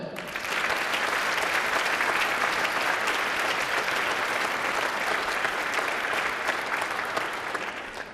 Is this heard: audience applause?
yes